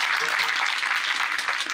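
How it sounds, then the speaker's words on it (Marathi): An audience at a kirtan claps together in dense, sustained applause, a continuous crackle of many hands close and fairly loud. "एकदा जोरदार सगळ्यांनी टाळी वाजवा"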